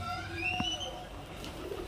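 Pigeons at a seller's stall in Nabadwip, with high-flyer breeds on offer, give a few soft coos and short calls close by over a low ambient hum; a faint voice is briefly audible.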